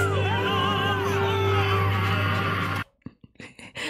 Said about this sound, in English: My they're screaming a lot.